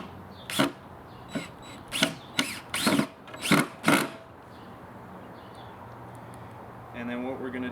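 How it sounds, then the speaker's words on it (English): A power drill whirs in several short bursts, close and loud, then stops; quiet room tone and a brief mechanical hum follow. "I like to right away drill this down so that it's stable"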